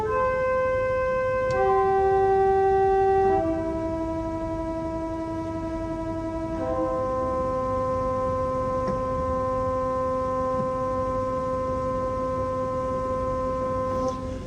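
A Binns pipe organ played loud on an open stop with the tremulant on, giving sustained chords with a rapid, fast wavering pulse. The chord changes a few times over a steady low hum, with no talking.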